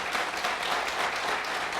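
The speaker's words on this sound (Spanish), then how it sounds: "Si va a aplaudir, déselo" A church congregation applauds during a sermon, a steady wash of many hands clapping at once, moderately quiet and continuous with no individual claps standing out.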